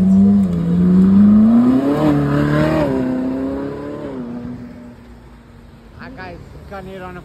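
A Ferrari 458 Spider engine revs up loud and close at a car meet, the pitch climbing and then slowly settling back to a steady idle. Voices talk near the end.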